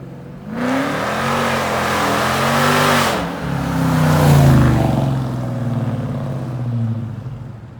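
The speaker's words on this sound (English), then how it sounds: "I absolutely love the way that the Charger RT sounds with that exhaust setup." A Dodge Charger R/T's V8 exhaust, fitted with long-tube headers and a Hellcat cat-back, revs loudly and close, rising and falling through several throaty pulls with a deep rumbling idle between.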